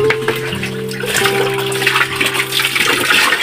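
Water is poured and splashes during a child's bath, a loud gushing rush running continuously, with faint tonal sounds mixed in at the start.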